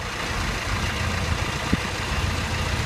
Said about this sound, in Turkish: Ayağımı debriyajdan çektiğim anda bir şarıltı oluyor.